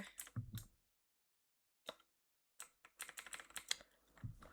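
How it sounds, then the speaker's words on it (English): Quiet typing on a computer keyboard: a couple of keystrokes, a pause, a single tap, then a quick burst of clicky presses, all faint and close with no talk. "let's show everyone the keyboard"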